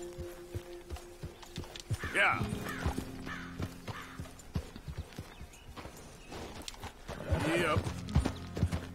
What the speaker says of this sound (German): Pferde sehen wir da unten.